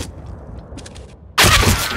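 A grenade explodes in Counter-Strike: Global Offensive, a sudden loud broadband blast that cuts in after quiet game ambience and faint metallic clinks, its roar sustained to the end.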